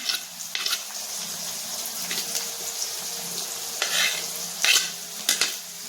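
Chopped ginger and garlic frying in a pan for a Punjabi mixed vegetable dish, a steady sizzle broken by scraping stirs and a few louder clattering bursts, close up with no talk.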